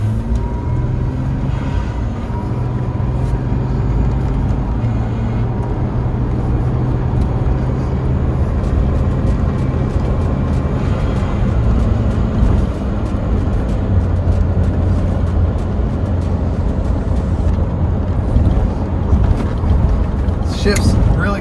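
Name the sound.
Toyota Tacoma with Procharger supercharger driving, venting boost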